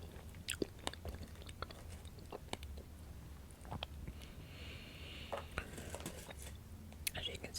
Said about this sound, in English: As you can see, I'm only chewing on one side.